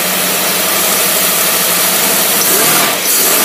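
A Predator small engine runs under heavy torque load with a loud, continuous, rough roar and a strong low rumble. The pitch dips briefly near the end.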